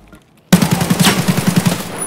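Rapid automatic gunfire erupts suddenly after a moment of quiet in the shooter game Escape from Tarkov, a loud, sustained burst of closely spaced shots.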